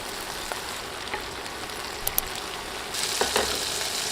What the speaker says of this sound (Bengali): অনবরত নেড়ে নেড়ে ঢ্যাঁড়স ভেজে নিতে হবে।